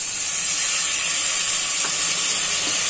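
Salty seviyan noodles sizzle steadily in a hot pan as soy sauce goes in, a continuous bright hiss of frying with a few faint scraping touches.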